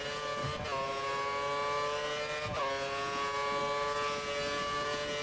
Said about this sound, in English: Oh man, there is so many cars coming up behind.